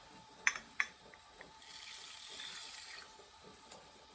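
Water is poured over half a cup of seeds to soak for sprouting, opening with a couple of sharp clinks, then a soft rushing pour lasting about a second and a half, quiet and close.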